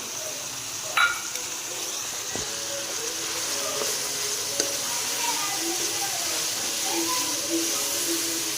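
Chopped onion, hard cabbage and tomato frying together in a pan for Chinese-style noodles, giving a steady hiss and sizzle with a few soft clinks and stirring scrapes, close by, with no talking.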